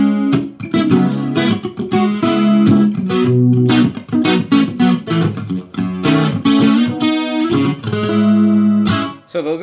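Electric guitar driven hard through distortion and other effects, loud and continuous, with chords and riffs ringing close up and no voices over it.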